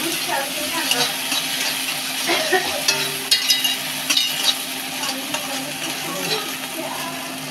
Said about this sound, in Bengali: দেখতে থাকো সবাই কীভাবে পেঁয়াজ রসুন কষাতে হয়